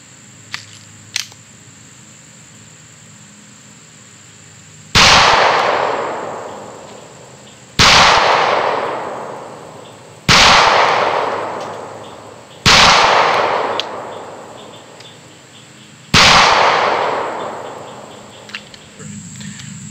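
Five loud, close gunshots from a Beretta Nano 9mm pistol ring out at uneven intervals of two to three seconds, each with a long echoing tail, after a couple of faint clicks outdoors.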